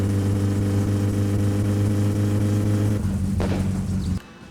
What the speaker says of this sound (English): You crank the engine and oh my god, it runs!